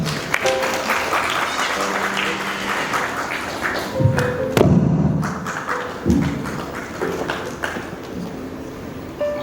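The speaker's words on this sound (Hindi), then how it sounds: "जोरदार तालियां हमारे एसबीएम गोल्ड के मनोज सरावगी जी के लिए।" Audience applause at a Hindi comedy poetry gathering, a crowd clapping in a steady patter mixed with several heavy thumps and knocks, moderately loud throughout.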